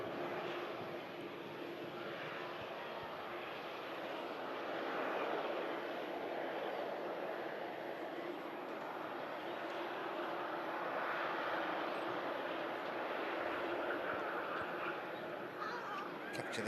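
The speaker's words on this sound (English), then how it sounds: "we have the TUI Dreamliner about to line up for Punta Cana" TUI Boeing Dreamliner jet lining up for takeoff at Manchester Airport, a steady distant engine drone and whine that holds throughout at moderate level, with no talk.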